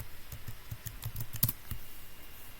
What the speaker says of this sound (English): So from here you can type your username, which my username is administrator, and password.